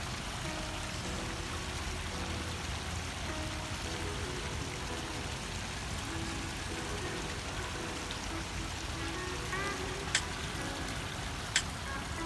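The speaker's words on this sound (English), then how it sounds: "I knew I heard water." An outdoor stream flows in a soft, continuous trickle at a moderate distance, steady and fairly quiet, with two brief sharp clicks near the end and no talking.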